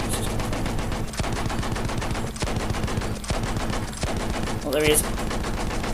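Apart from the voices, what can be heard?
machine gun firing in Battlefield 1 video game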